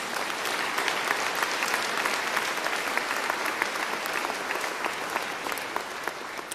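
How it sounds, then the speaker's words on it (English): An audience at a matric class of 2022 results event gives a long, even round of applause for the learners, a dense wash of clapping from a sizable crowd with no talk over it. "a big round of applause for our brilliant learners"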